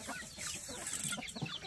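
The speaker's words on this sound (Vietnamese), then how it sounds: "Gà kia gà tre chứ." Small bantam chickens cluck in a rural hillside yard, a run of short, scattered clucks at moderate distance over a steady outdoor background.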